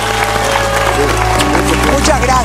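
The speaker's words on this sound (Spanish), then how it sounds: "Un aplauso," Studio audience applause on a Spanish-language talk show, dense steady clapping with some crowd noise, sustained and fairly loud throughout, with a low hum underneath.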